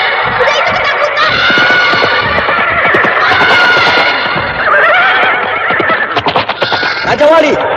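A frightened horse neighs loudly and repeatedly, close by, with hooves clip-clopping underneath and shuffling movement toward the end.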